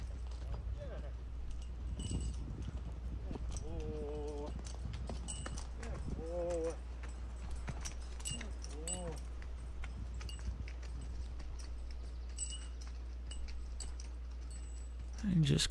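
Horse hooves clip-clop in a steady rhythm on hard ground, faint and mid-distance, running under occasional speech and short voiced sounds throughout.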